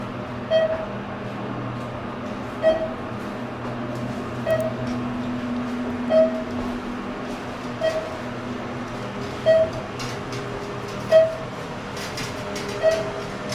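A Thyssenkrupp Synergy MRL traction elevator motor runs at a hotel, giving a steady low hum with faint, regular clicks that repeat about every second and a half.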